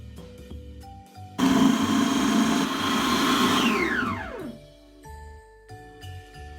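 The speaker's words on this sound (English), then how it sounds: "it's going in the food processor, so I'm just going to pop that in whole" A food processor blends gingerbread mixture with a loud, steady whirring roar for about three seconds, then the motor winds down to a stop, with light clinks before and after and no talking.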